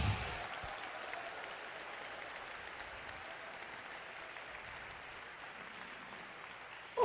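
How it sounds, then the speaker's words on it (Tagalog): A congregation at a prayer-for-the-sick crusade in Rosales applauds steadily, a soft, even wash of clapping that follows a brief louder sound at the start. "Malakas na palakpak sa Diyos"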